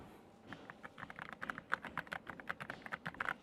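RK Royal Kludge S104 keyboard being typed on, a quiet, close flurry of soft, cushioned key clicks in an irregular rhythm, with no voices.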